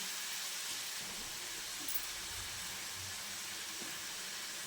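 Spice masala for Dhaba-style egg masala frying in a pan, heard as a steady, dense sizzling hiss that runs the whole time at even loudness, with no voices.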